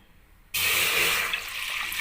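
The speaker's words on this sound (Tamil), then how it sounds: "அடுத்து 1 லிட்டர் தண்ணி சேர்க்க போகிறேன்" About one litre of water is suddenly poured into a pressure cooker on a stovetop while making millet and ragi porridge, a steady hissing, splashing rush that starts abruptly and continues close and loud.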